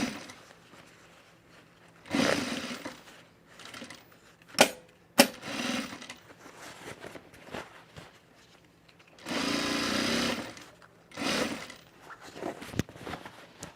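A sewing machine stitches a facing along the top edge of fabric in several separate runs of steady whirring, each a few seconds long, with short clicks and handling noise in the pauses.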